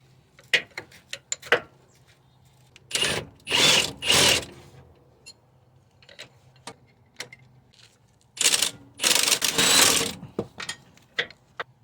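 Bolts on the front differential of a Dodge Durango 4.7 are being backed out with a power tool: several short, loud whirring bursts, close by, separated by quiet gaps and small clicks and clanks.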